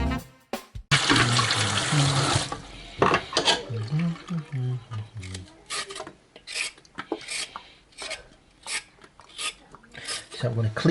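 Vegetables, including carrots and sweet corn, being rinsed under a running kitchen tap, with a steady rush of water and scrubbing, rubbing sounds that come in bursts and stops, close by.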